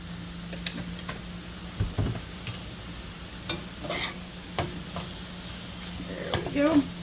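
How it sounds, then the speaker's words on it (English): Pork, potatoes and cabbage fry in oil under a steady low sizzle, with repeated scraping stirs and clinks of a utensil against the pan, close by, and a voice briefly heard. "I'm just gonna stir and keep cooking until my potatoes and cabbage are done too."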